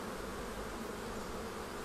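Honey bees from colonies preparing for winter buzz in a dense, continuous swarm drone, steady and fairly close, with no talking.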